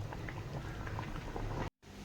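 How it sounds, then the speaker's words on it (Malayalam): Fish curry boiling in a pot on a gas stove makes a quiet, steady bubbling and popping close by, broken by a brief cut to silence near the end. "മീൻകറി ഇത്തി കൂടെ തിളച്ച് വറ്റാനൊക്കെ ഉണ്ട്"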